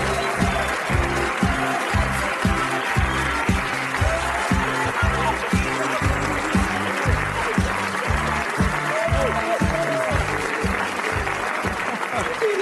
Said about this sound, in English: But please give a round of applause